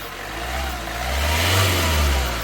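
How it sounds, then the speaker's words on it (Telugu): A 2014 Hyundai i20 Asta's engine revs up, its low drone rising in pitch and loudness, then easing back down; steady and close, with no voices. "ఒకసారి ఇంజన్ యాక్సిలేటరీ"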